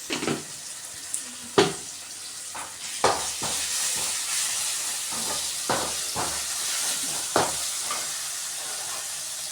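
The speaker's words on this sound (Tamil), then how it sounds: "இப்போ வெங்காயம் தக்காளி எல்லாம் நல்லா வதங்கிடுச்சா?" Onions and tomatoes sauté in a pan for a Tamil fish curry, giving a steady close sizzle broken by sharp scraping and stirring knocks.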